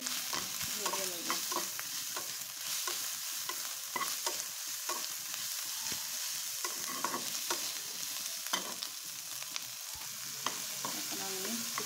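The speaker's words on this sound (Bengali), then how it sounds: "এখন আমি আস্তে আস্তে চিকেনটা ভালো করে ভেজে নেব।" Chicken fries in a pan and is stirred steadily, a continuous close sizzle with repeated scraping strokes throughout.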